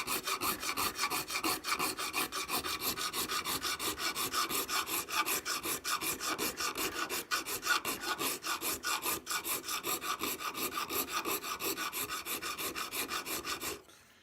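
A metal file rasping across part of a swivel breech rifle kit: fast, steady back-and-forth strokes, close and even, continuing for over ten seconds before stopping abruptly.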